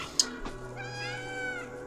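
A cat meows in the video game Stray, a single clear, drawn-out meow rising then falling, heard close and alone after a brief click.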